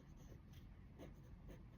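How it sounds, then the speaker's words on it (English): Pen scratching across paper as notes are written by hand, quiet and close, with a few repeated strokes and no voices. "Okay, let's write that down."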